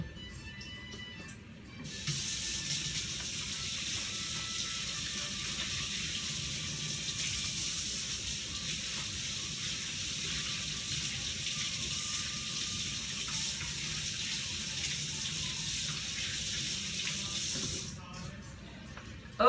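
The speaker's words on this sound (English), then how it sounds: "sit that over here and wash hands one more time" Kitchen tap water running steadily into a sink as hands are washed during cooking, a loud continuous close splash that starts abruptly and stops near the end, with faint talk.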